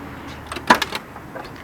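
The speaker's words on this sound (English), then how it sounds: "Let's walk over here and open the door up on it." The door of a 1968 Pontiac LeMans opening, a quiet metallic latch click followed by a couple of soft clunks, brief and fairly close against light background noise.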